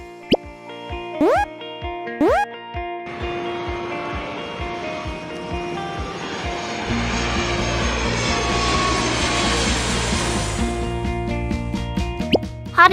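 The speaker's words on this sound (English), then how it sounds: "Jet airliner." A jet airliner's engines build into a broad, steady roar that swells and holds, preceded by a few brief plopping sound effects. Nobody speaks over it.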